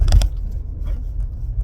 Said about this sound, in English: I'm in a car as we speak.